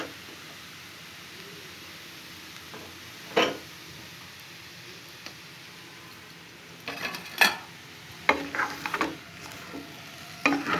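Chicken noodles are stirred in a pan with garam masala and dhania powder, giving a soft sizzle beneath scattered scrapes and clinks of a utensil on the pan, which grow busier toward the end.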